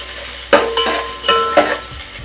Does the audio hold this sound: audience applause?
no